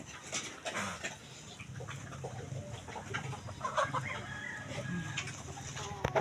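Chickens cluck and squawk close by, with a rooster crowing among them and steady outdoor background noise throughout.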